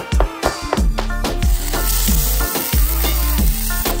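Steak sizzles loudly in a pan up close, a bright, hissing fry punctuated by a series of sharp clanks and knocks every half second or so, without any speech.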